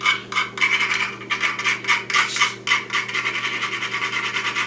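Whole nutmeg scraped over a grater makes a run of close, rhythmic rasping strokes, each a short dry scrape, steady and fairly loud with no speech.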